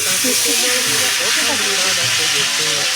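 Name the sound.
onion, ginger, garlic paste with yogurt sizzling as it is fried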